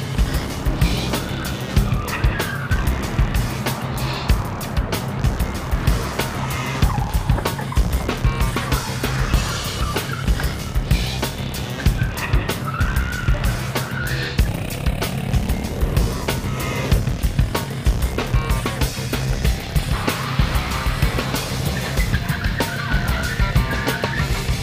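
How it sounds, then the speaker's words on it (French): Car chase action with two police cars pursuing a car across a bridge, engines roaring and tires skidding continuously under a dense, loud mix of traffic and music-like noise with no talk. "on fait une séquence où Franck se fait poursuivre par deux voitures de police"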